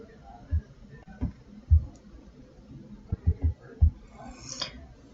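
Several sharp computer mouse clicks land at uneven intervals during photo retouching in portrait editing software, each a short dry tick over a quiet room background.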